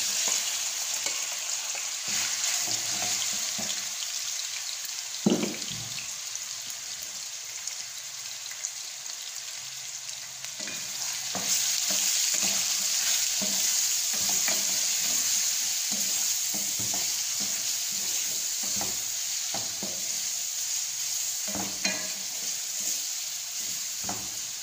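Chicken frying in a pot over a lit flame and being stirred, a continuous steady sizzle broken by repeated scraping and clattering strokes of a spoon, close and fairly loud with no talking.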